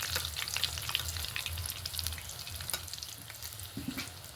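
Steady close sizzle of snacks frying in oil in a wok, with crackling bursts of bubbling and no talk.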